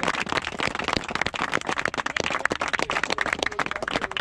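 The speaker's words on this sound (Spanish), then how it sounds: "Un aplauso por el hermano" Crowd of people applauding outdoors for a fellow trail builder at a jump and pump track build site; dense, steady clapping from many hands, close and loud throughout.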